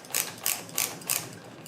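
Clicking of a ratchet socket wrench from a Chinese tool set, four quick close bursts of metallic pawl clicks evenly spaced, heard alone with no talk.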